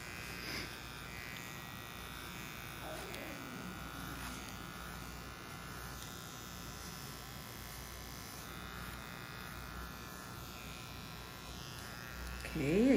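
Electric hair clippers trimming a woman's short gray hair hum steadily at close range, a continuous buzzing drone that runs throughout and rises briefly at the very end.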